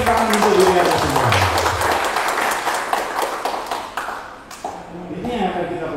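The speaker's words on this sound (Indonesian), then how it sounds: "Kalau bisa Anda tepuk tangan untuk diri Anda semua" An audience at an Indonesian talk show bursts into applause, a dense wash of many hands clapping that starts strong, thins out and then swells again, with voices talking over it.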